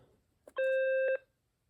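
A single steady electronic beep from a button press on a BellSouth VTech BS2425 2.4GHz cordless phone, lasting about half a second, close and clear after a faint click.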